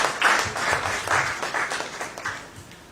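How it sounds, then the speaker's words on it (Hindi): An audience applauding at a Delhi BJP campaign event, a short burst of clapping that fades out over about three seconds, with no talking. "मैं पुनः सभी कार्यकर्ताओं से रिक्वेस्ट करूंगा कि एक बार जोरदार तालियों से माननीय तरुण जी का अभिनंदन करें, स्वागत करें।"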